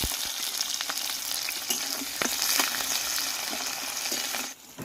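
Green chilli and chopped onion fry in oil with five-spice, a steady crackling sizzle close by, broken by a few stirring scrapes and ending with a brief dip.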